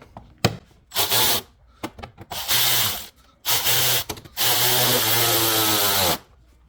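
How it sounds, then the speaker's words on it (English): A powered ratchet tightens a bolt on the water pump housing of a 2012 Chrysler 300 with a 3.6L V6, whirring in four loud, close bursts of about a second each with short pauses between. "don't forget to tighten down this bolt"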